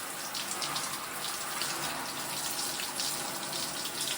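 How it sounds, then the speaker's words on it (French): Shower water spraying onto a pet bird named Keno perched on a stable stand, a steady hiss of spray with small splashy fluctuations, fairly close. "C'est bien la douche, Keno."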